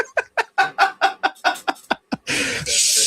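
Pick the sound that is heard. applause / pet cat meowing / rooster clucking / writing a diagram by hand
rooster clucking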